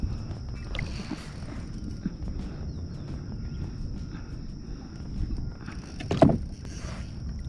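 A kayak rudder pops once during inshore saltwater fishing, giving a single sharp crack near the end over a steady low rumble of water and hull noise.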